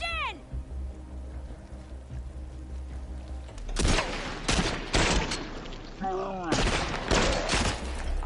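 Bursts of gunfire in The Last of Us Part II Remastered, No Return mode, rattle out in loud clustered volleys over steady game ambience, with sharp cracks and ringing tails packed into the second half.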